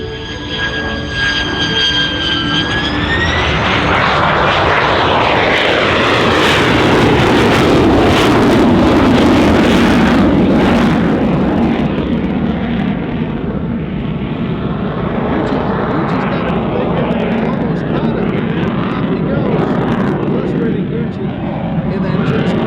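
A Lockheed U-2 Dragon Lady jet passes at the 2023 California Capital Airshow, its engine roar swelling and shifting in pitch as it goes by, then fading to a distant rumble while an announcer talks throughout.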